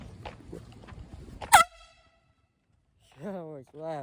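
One short, very loud air horn blast cuts in after some quiet background, then stops abruptly; a person talks shortly afterward.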